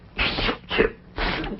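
Three short, breathy bursts in a row, like stifled sneezes or snorts, close and fairly soft, with brief gaps between them.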